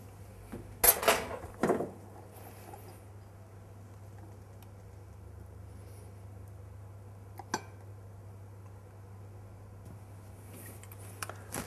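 Ceramic and metal clinks as a soft chocolate cake is moved onto a serving plate, a short cluster of clatters near the start and a faint clink later, in an otherwise quiet kitchen.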